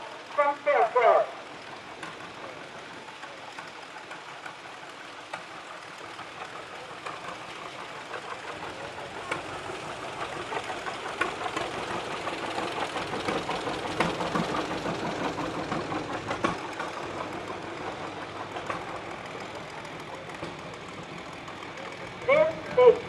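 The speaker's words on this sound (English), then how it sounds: "This big green beef is a 1972 50-20 John Deere from Republic, Kansas, owned and being driven by Randy Thayer" A 1972 John Deere 50-20 tractor in an antique machinery parade, its engine chugging at moderate distance and swelling louder mid-way before easing off, with crowd noise and brief clatters at the start and end.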